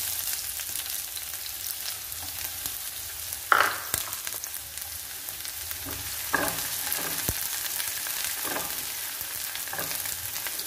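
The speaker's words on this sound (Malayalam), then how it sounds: "അതിലേക്ക് ഈ ചെറിയ ഉള്ളി ഇട്ട് കൊടുക്കുക." Small onions drop into hot oil with browning garlic, a continuous even sizzle at close range broken by a few clanks and scrapes of a stirring spoon.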